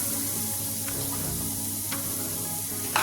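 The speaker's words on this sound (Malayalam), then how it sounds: "ഞാൻ ആദ്യമേ ഒരു കപ്പ് തേങ്ങ ഒന്ന് വറുത്തെടുക്കുകയാണ്" Steady dry sizzling of grated coconut roasting in a hot pan, with a few faint scraping stirs, continuous and close.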